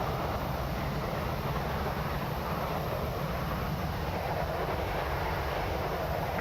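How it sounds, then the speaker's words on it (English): Boeing 737-300 cockpit sound in the X-Plane 12 flight simulator, a steady broadband jet engine roar with a constant high whine on top, continuous and even throughout with no talk. "The only thing I don't like is the sound. The sound of this aircraft."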